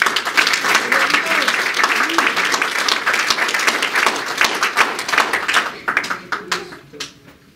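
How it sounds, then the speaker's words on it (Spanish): A church congregation claps loudly to honour the Lord, a dense burst of many hands with some voices mixed in, holding strong before thinning into a few scattered claps and fading out. "Denle un fuerte aplauso al Señor"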